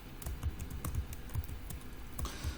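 Rapid typing on a computer keyboard, with close, crisp key clicks in a quick uneven rhythm and no voices.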